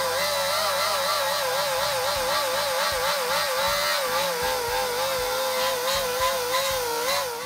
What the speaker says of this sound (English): Now we're going to move on to a Scotch-Brite pad or burr head, and this basically polishes the surface.